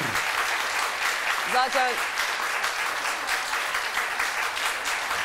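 Studio audience applause on a Turkish daytime TV talk show, a steady broad clapping that fills the whole stretch, with a brief voice cutting in near the middle.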